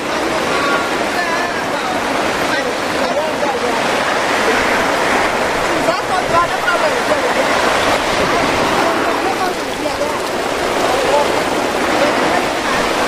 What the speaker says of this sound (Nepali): पानी चाहिँ असाध्यै परेछ गाइस